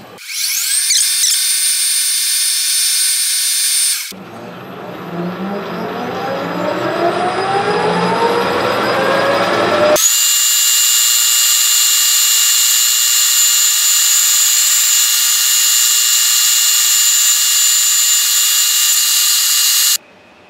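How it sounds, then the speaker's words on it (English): A half-inch drill bores into a bushing on a metal lathe, producing a loud, high mechanical whine that shifts pitch partway through, then settles into a steady, piercing tone before stopping abruptly. "I'm going to drill it with a half inch drill"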